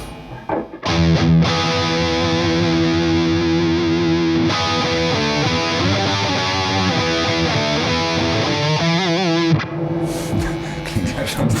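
Heavily distorted electric guitar played through an Engl E-653 Artist Edition 50 tube amp with extra gain dialed in, thick sustained chords and riffs ringing loud and continuous for about nine seconds before cutting off.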